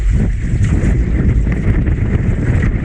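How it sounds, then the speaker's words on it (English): Strong westerly wind roars and buffets across open ocean water off Noosa from a fishing boat, a constant loud rumble with gusty microphone noise and no voices. "Pretty windy out here at the moment."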